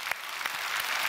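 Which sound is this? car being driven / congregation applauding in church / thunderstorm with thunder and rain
congregation applauding in church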